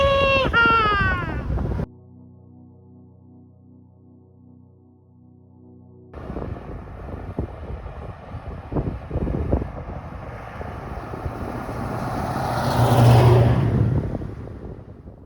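Traffic rushes past on Interstate 40 while cycling, with heavy wind buffeting the microphone, a brief quieter stretch, then the roar builds again as a vehicle passes loudly near the end.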